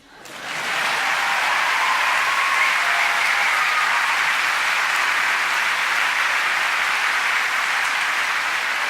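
Concert audience applauding the conductor after a symphonic performance with the Folia orchestra in Lille, dense clapping rising within the first second and then holding steady and loud as a continuous roar.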